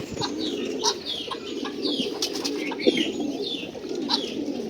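Racing pigeons in a loft, including king-size birds, coo in a continuous low burble, with chirps, higher calls and an occasional wing flap on top of a busy background.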